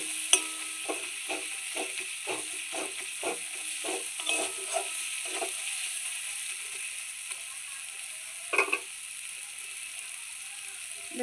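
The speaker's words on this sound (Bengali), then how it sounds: "তো আমি একটু পরে জল দেবো, একটু মশলাটা ভালো করে কষিয়ে নেব।" Spice paste being fried in oil while a spatula stirs it for a spicy pangas fish curry, a run of short scraping strokes in a steady rhythm over a soft sizzle, then a pause and a couple more scrapes, close and fairly quiet.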